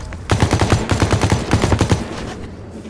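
Rapid bursts of automatic gunfire in The Cycle: Frontier, a quick string of sharp, evenly spaced shots from about 0.3 to 2 seconds, then fading into a quiet tail.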